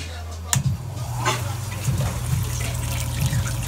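Hot sparge water for home brewing is pumped in and trickles steadily into the mash, a continuous close splashing flow under a low pump hum that starts abruptly and carries on without talk.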